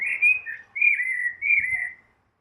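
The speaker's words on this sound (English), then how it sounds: "So the bird singing is quite loud, isn't it?" A bird sings three clear whistled phrases in the early evening, each sustained and slightly sliding, close and loud against an otherwise quiet background.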